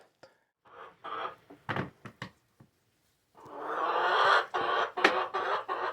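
Hens cluck in short scattered bursts, then a longer, louder stretch of overlapping clucking and squawking close by, with brief pauses between calls.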